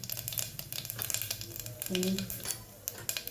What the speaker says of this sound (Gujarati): એના માટે મેં 3 પડી તેલ લીધું છે. 1 ચમચી રાઈ એડ કર્યું, જીરું